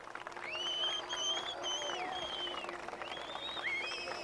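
Large crowd roaring and cheering at the 1982 Palermo polo final, Coronel Suarez versus Santa Ana, a sustained loud swell with whistles rising over the noise as the players enter.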